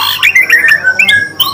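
A white-rumped shama (murai batu) calling close by, with a quick run of bright, sharp squawking notes rising and falling, pausing briefly before a final burst.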